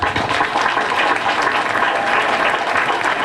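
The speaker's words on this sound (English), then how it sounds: "you deserve a round of applause for that" Graduation audience breaks into dense, sustained applause that holds steady and loud from start to finish, a broad wash of many hands clapping together with no voices standing out.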